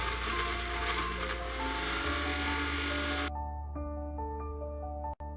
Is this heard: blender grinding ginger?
yes